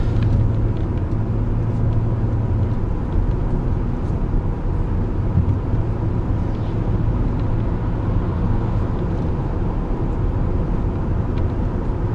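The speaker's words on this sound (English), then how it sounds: "Rather heavy traffic for the hour." Heavy highway traffic on Malaysia's LDP, heard as a constant low rumble of road and engine noise from inside a moving car, steady throughout with no talking.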